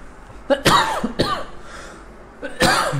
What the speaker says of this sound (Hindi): मुझे खांसी लगी हुई है।